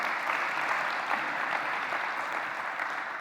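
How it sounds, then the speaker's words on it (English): Audience applause at the RecSys 2016 conference opening: even, sustained clapping from a large room, moderately distant, with no talk over it. "I was going to ask them to stand up and give an applause, but you guys were much faster"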